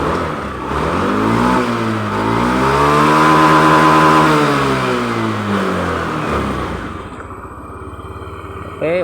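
A Honda Beat fuel-injected scooter engine with hesitant throttle response is revved once, rising smoothly to a loud, high whine, holding, then easing back down to idle, close up.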